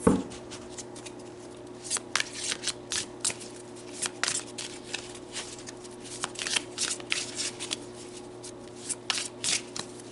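Tarot cards being shuffled up close, with repeated short riffles and soft paper slaps in irregular bursts over a faint steady hum, and no talking.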